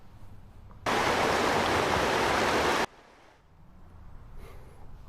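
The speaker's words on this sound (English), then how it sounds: "you hear that sound, that's the Cedar River as it runs near Ron Regis Park in Renton" A steady broadband rush of the Cedar River flowing near a park in Renton, loud and continuous for about two seconds, then dropping away to a quieter background.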